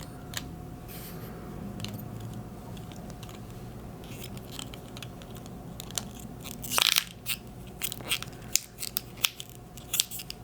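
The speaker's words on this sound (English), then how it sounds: "Let's see if I can finish this off with a capsule crunch." A capsule crunched in a press after a vintage 20 oz silver bullion trade: a steady low mechanical hum, then a sudden loud crunch followed by scattered cracks and snaps, with no talking.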